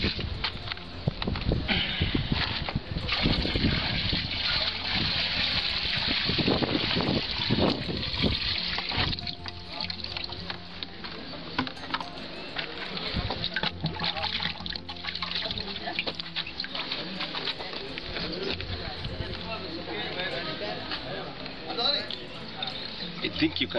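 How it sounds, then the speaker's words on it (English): Contaminated water being poured into a Biosand filter, a steady running and splashing of liquid that goes on throughout, with speech heard over it. "We're going to pour the water into this Biosand filter, and then you can watch what comes out of it."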